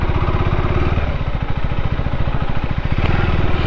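A Kawasaki Versys motorcycle, warmed up before a long desert ride, runs with a loud, close, throbbing engine pulse and a rapid, even firing beat throughout, with no voices over it.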